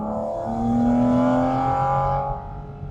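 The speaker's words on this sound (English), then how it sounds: "Just listen to that engine." Performance driver's car engine revving, a loud smooth tone that rises steadily, holds, then eases off, heard up close.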